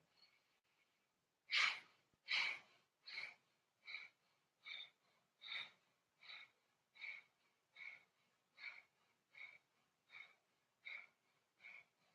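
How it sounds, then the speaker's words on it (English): Kapalabhati yoga breathing during a gentle yoga class: a series of about fourteen short, forceful nasal exhales in an even rhythm, close and clear, the first few strongest and the rest slightly softer. "We'll begin our second round of Kapalabhati breathing."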